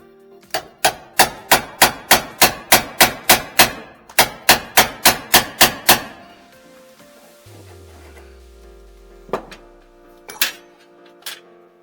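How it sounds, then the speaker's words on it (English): Rapid, evenly spaced metallic taps of a small hammer striking a chisel on a 1959 Edsel Ranger's interior, in two quick runs, followed by a few scattered knocks and clinks, close and clear. "Try a little hammer and chisel for that grinder."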